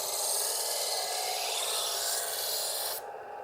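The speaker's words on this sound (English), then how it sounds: "lower the heel of the blade down until you hear the grinding noise" Smith's Diamond Edge electric knife sharpener grinds a knife blade pulled through its slot, a loud, steady close-up rasping whir that cuts off abruptly near the end, leaving a quieter motor hum.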